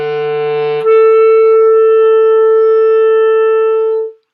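A clarinet plays a focused low E slurring up to a B, the upper note held steady and loud at close range for about three seconds before fading out, with no voices.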